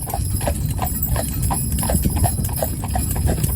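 Heavy cob horses trot in American harness, their hooves making a steady, fast clip-clop rhythm over a constant outdoor rumble, close and loud.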